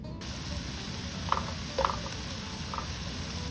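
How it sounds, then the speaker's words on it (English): Onions frying in a tablespoon of olive oil, a soft even sizzle with a couple of faint metallic clinks from the pan, fairly quiet and steady. "put about a tablespoon of olive oil, and then you can add in your onions"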